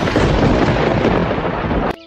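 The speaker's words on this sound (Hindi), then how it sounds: "ये बिना मौसम की गरजती हुई बारिश हमें क्या संकेत देती है?" Loud, close rumble of thunder from an unseasonal thunderstorm, a dense rolling roar lasting about two seconds before cutting off abruptly.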